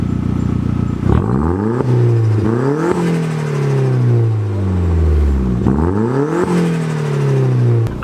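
A VW Golf fitted with a K04 turbo revs hard, engine pitch sweeping up and falling back through repeated pulls, with a whirring spool that rises loud and close over the engine note.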